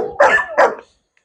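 A frightened, wary dog, apparently a Malinois, gives two sharp barks in quick succession, close and loud, followed by silence.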